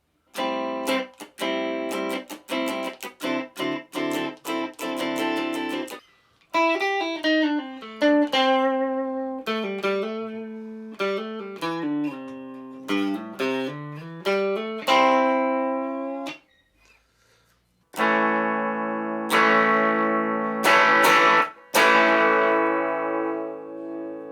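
An electric guitar with P90 pickups in the middle position plays a run of plucked notes and strummed chords, clean and ringing, with brief pauses between phrases and a brighter strummed passage at the end.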